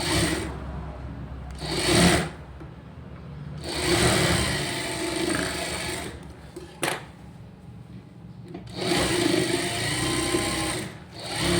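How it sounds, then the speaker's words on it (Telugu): A computer embroidery sewing machine stitches a double seam on a blouse. It runs in loud close bursts of fast mechanical whirring with brief pauses and clicks between them. "నేను ఇక్కడ డబుల్ స్టిచ్ చేస్తున్నానండి"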